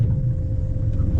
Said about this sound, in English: Flick that motor into gear, mate